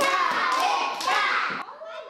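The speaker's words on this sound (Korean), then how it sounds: "잘했다는 박수로" First-grade schoolchildren in a Korean classroom clap together in praise during a Hangul lesson, a short burst of quick, close claps mixed with children's voices that fades out near the end.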